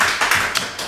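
A small group of office workers gives a brief, loose burst of clapping to welcome a new intern, a few close, sharp claps that quickly peter out.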